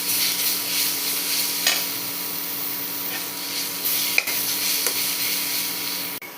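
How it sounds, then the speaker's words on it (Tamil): Peanuts roast dry in a pan with salt, giving a steady broadband scraping hiss broken by a few sharp clicks and knocks as they are stirred; no voices. "ஸோ இங்கே நிலக்கடலை வந்து நல்லா வறுபட்டுருச்சு."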